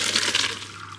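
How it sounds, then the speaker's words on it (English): Pasta cooking water is scooped from a pot, a brief splashing and pouring of liquid that fades to a quieter trickle. "Before I tip the pasta out, I like to get some of the pasta water, just in case the sauce needs some extra water."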